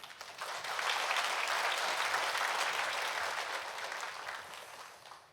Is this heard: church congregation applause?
yes